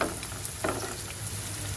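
Sliced onion sizzles in hot oil with salt, an early step in cooking goat liver; a steady, close frying hiss runs throughout with faint stirring scrapes.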